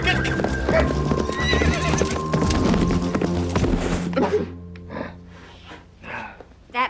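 A horse whinnies loudly with hooves clip-clopping, followed by snorts and breathy huffs as the activity quiets down.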